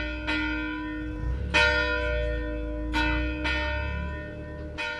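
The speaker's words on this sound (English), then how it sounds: "Church bells across Canada, including right here in Charlotte County, rang out at 6 p.m. Atlantic Time on Friday" Church bells ring out in Charlotte County, New Brunswick, with four loud, resonant strikes spaced about a second and a half apart. Each strike leaves long humming overtones ringing between the hits.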